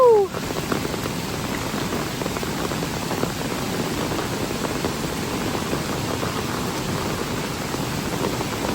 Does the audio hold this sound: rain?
yes